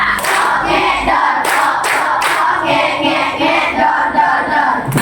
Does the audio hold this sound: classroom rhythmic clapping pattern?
yes